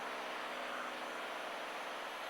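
A light airplane engine runs at full power just after takeoff, a steady loud broadband drone with a propeller buzz that holds evenly throughout, with no talk over it.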